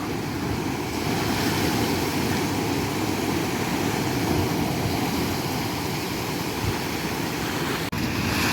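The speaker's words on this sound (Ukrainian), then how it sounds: "І вода постійно переливається через пірс." Rough Black Sea surf in Odesa surging and spilling over a pier, a steady loud roar of crashing water and wind noise filling the whole stretch, with a brief dropout near the end.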